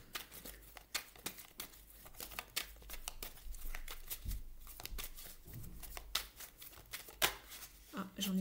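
Tarot cards being shuffled by hand in a series of quick riffling bursts and soft card slaps, close and fairly quiet, with occasional light crinkling.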